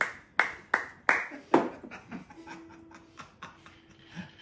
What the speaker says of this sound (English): Say I'm reenacting the clap